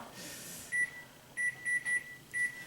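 Kitchen microwave oven defrosting food gives five short, sharp electronic beeps in an uneven run, close by over a faint hum, with no voices.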